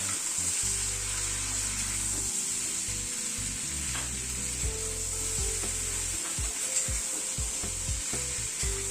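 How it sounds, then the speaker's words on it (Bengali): Two medium chopped onions hitting hot oil in a frying pan for a roti-paratha vegetable dish, a loud steady close sizzle with scraping and stirring knocks throughout, no talk. "এখানে মিডিয়াম সাইজের দুটো পেঁয়াজ কুচি করে নিয়েছি, সেটা দিয়ে দিলাম।"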